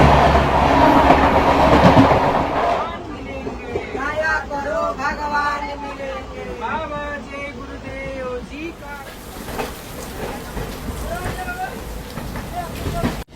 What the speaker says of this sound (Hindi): हम लोग जो जर्नी है वो हो रही है ट्रेन नंबर 15715 गरीब नवाज एक्सप्रेस में